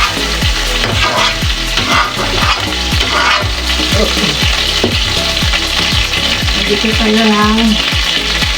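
Garlic and onion sauté in a hot pan with a loud, continuous sizzle and crackle. A utensil scrapes and stirs against the pan in a steady, repeated rhythm, and someone speaks briefly over the frying.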